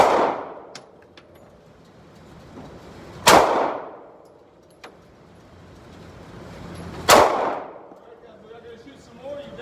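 Gunshots from a firearm at a shooting range, two loud sharp reports about four seconds apart, each ringing off with a decaying echo, with fainter distant shots and clicks between them.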